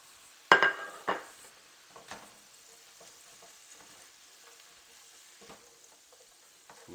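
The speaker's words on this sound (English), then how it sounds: "Now that this steak is starting to brown up, I'm going to add our peppers and onions to it." Steak browning in a pan while peppers, onions and spices go in: a couple of sharp clattering drops near the start, then a faint, steady sizzle with light scraping and stirring throughout, no talking.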